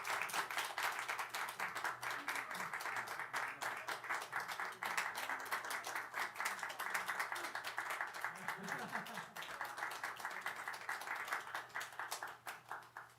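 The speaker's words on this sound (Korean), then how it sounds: "우리 박수 쳐주시면 감사하겠습니다" A church congregation claps during a Sunday worship service in a steady, dense patter that fills the clip, with a voice talking briefly over it near the end.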